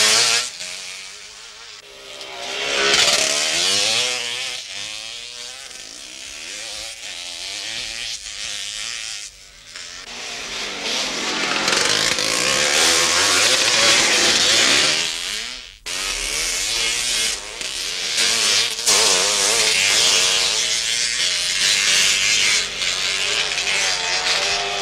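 A 250cc motocross motorcycle engine roars loud and close in sustained high revving, with throttle swells, brief dips and a sharp cut partway through, no one speaking over it.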